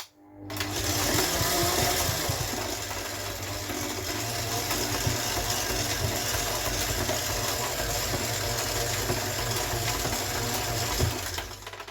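A stand mixer with a dough hook kneads pizza dough in a steady, continuous mechanical whir with a low rhythmic motor hum, close and even throughout.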